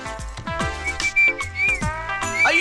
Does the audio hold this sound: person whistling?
yes